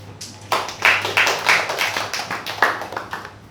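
Church congregation clapping hands, a short burst of fairly close, irregular claps from many people, moderately loud with some murmur underneath.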